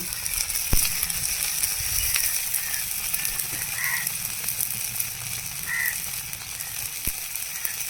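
Onions and tomatoes frying with turmeric in a pan, a steady close sizzle running throughout, with a couple of sharp knocks and faint bird calls in the background.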